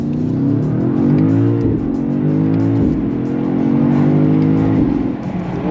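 A 2025 BMW XM SUV in sport mode pulls hard through its gears, the loud engine note rising steadily and then dropping sharply at each of several quick upshifts, heard up close from inside the cabin with no talking.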